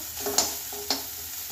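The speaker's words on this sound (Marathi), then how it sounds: "यातच आपण हिंग घालून घेतोय। हिंग चांगला परतून घेऊया।" Finely chopped green chili and asafoetida sauté in a pan, with two quick spatula scrapes over a soft, steady sizzle.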